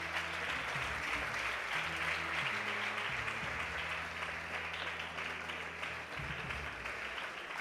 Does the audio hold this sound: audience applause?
yes